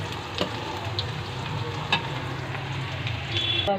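Onions fry in hot oil for a fish curry, a steady dense sizzle running throughout with a few soft clicks of stirring, fairly close and with no talking.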